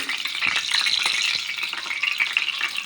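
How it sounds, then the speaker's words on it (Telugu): Tempering spices for perugu pulusu crackling and sizzling in hot oil on a stove, a steady bright fry with small popping bursts, close and fairly loud with no talk. "ఆయిల్ వేడెక్కింది పోపు వేసుకున్నాము"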